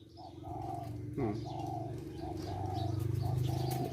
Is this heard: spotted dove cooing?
yes